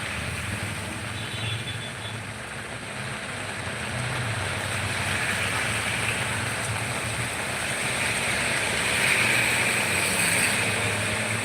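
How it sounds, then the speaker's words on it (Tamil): Heavy evening rain in Mannargudi pours down in a dense, constant roar of hiss with no pauses and no voices. "மழை ஐந்து மணிலேருந்து மழை அதிகமாக பெஞ்சிக்கிட்டு இருக்குது"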